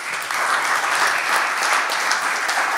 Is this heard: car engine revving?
no